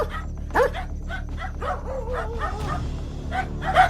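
Dogs bark and yip in quick, excited bursts close by, with some whimpering mixed in, several barks overlapping across the stretch.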